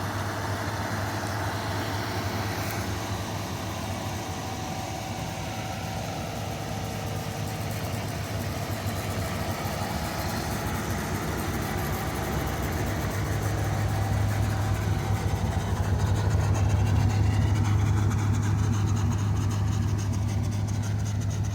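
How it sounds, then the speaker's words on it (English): A 1978 Lincoln Continental sedan with a 7.5-litre 460 V8 idles after a cold start, producing a steady, close, low engine rumble that swells slightly louder toward the end, with no talking. "not a terribly bad cold start."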